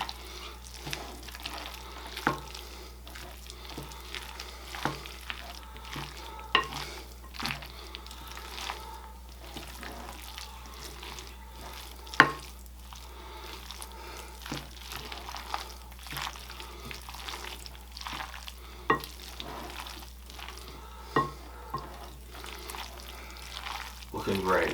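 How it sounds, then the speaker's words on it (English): Cheese being stirred into a tuna noodle casserole, with soft scraping stir strokes and faint sizzling over a steady low hum, with a few sharper utensil knocks throughout. "And then stir that all in."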